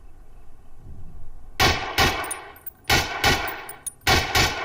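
Rifle shots on a shooting range in a video game: a few loud, sharp cracks in uneven bursts, each with a brief ringing tail, over quiet background ambience, with no talking.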